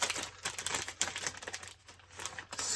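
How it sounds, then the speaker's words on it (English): Crinkling plastic of a wet wipes packet handled close up during an art journaling session, a busy run of dry rustles and crackles, alone with no talk. "Excuse the crinkling noise."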